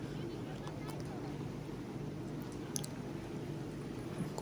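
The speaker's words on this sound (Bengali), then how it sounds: "তো দেখো এই নৌকোটা যে আসছে, এটাতেই আমরা উঠবো, ঠিক আছে?" A boat comes toward the bank on a river, heard as a steady low engine drone mixed with wind and water noise. The sound holds even and moderately distant throughout.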